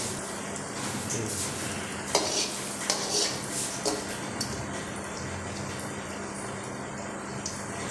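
Samosas fry gently in ghee over a low flame, a steady soft sizzle with occasional clinks and scrapes of a utensil against the pan, no talking.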